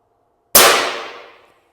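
A single sharp crack from an FX Panthera air rifle firing at a target 50 yards away, sudden and loud out of silence, then a ringing tail that fades over about a second.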